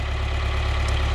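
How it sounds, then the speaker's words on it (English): An older farm tractor engine runs at a steady idle, a low, even rhythmic throb with no breaks. "So that tractor sounds really nice."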